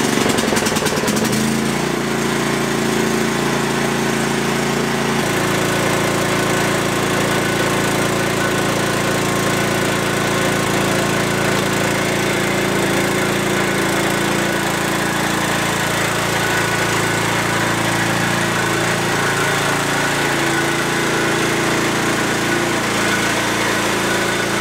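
Riding lawn mower engine, choke pushed up, cranking over and catching in the opening seconds, then settling into a loud steady idle that drones on alone for the rest of the stretch.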